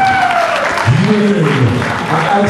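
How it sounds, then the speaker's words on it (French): Guests at a birthday reception applaud for children, a steady wash of clapping with voices speaking clearly over it. "Est-ce qu'on peut applaudir très fort pour ces enfants?"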